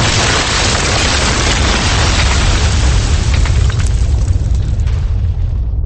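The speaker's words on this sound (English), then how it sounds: "The explosion took out the village, cleared the valley of every living thing" A massive explosion roars continuously, a deep, sustained rumble that stays loud and slowly thins out toward the end.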